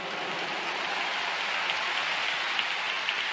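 A big crowd at a campaign rally in a stadium claps steadily, a dense, even wash of applause with no voices over it.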